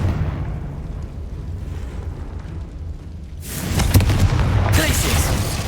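A Confringo blasting spell from Hogwarts Legacy explodes with a sudden loud broadband blast that sustains as a rumbling roar after a quieter stretch of game ambience.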